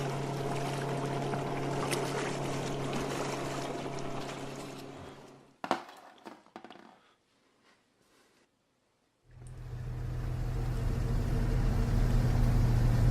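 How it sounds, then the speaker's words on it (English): A motorboat roars loudly and steadily with a churning engine and water wash. It cuts off midway, leaving a few knocks and near silence, then comes back just as loud. "Boat."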